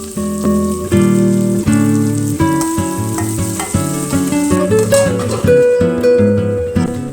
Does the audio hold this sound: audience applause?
no